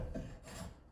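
Drawknife or spokeshave paring shavings from a green wood blank, giving a short, close rasping scrape that sounds once and then a second time, with no talking.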